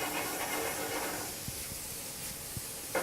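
Butter melting in a hot pan with calamari, tomatoes and olives, a steady loud hiss and sizzle throughout with a few faint clicks of utensils against the pan.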